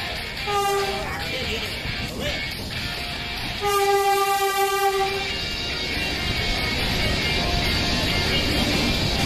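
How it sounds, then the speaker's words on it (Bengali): The Saraighat Express arrives at platform 3 of Rampurhat station, its horn sounding a short blast and then a longer one over a loud, steady rail rumble. "নির্ধারিত সময় থেকে 27 মিনিট লেটে ট্রেন এসে পৌঁছালো রামপুরহাট স্টেশনের 3 নম্বর প্ল্যাটফর্মে"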